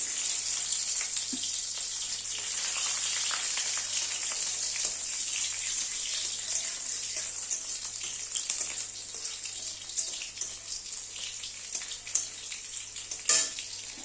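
Bay leaf and chopped garlic frying in hot oil, a bright continuous sizzle close up with a few scrapes and knocks of stirring toward the end.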